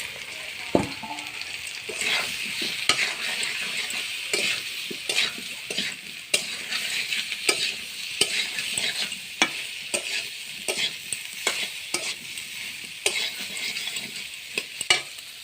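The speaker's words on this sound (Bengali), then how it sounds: "এবার আমি আটিগুলো ঢেলে দিয়ে ভেজে নেব।" Palm seed kernels frying in a pan, a steady close sizzle punctuated by regular sharp scrapes and taps of a spatula stirring every second or so.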